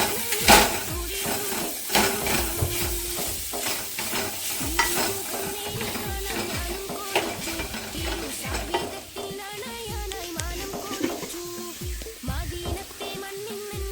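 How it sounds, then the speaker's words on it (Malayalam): Sliced onions for beef masala sizzle in oil in a pan while a utensil stirs and scrapes them in a steady repeated rhythm, close and fairly loud. "സവാള ഇട്ട് കൊടുത്ത് സവാള നന്നായിട്ട് വഴറ്റുക."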